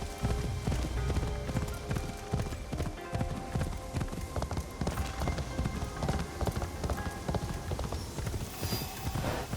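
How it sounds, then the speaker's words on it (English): A horse's hooves clip-clop at a steady trot in Assassin's Creed Shadows, a continuous rhythmic series of close, distinct thuds lasting the whole stretch over faint background ambience. "when you're riding your horse though by them"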